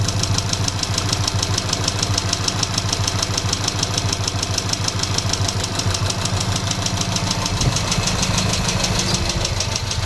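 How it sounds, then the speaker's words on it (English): A VW Polo 1.2 TSI engine runs steadily after a timing chain replacement, with a busy, slightly clattery mechanical rattle and constant hum, close and loud throughout, no voices. "It runs. It runs, guys."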